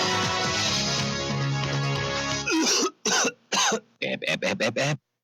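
A person coughs several times in quick bursts after a stretch of muffled background noise, the coughs sharp and close.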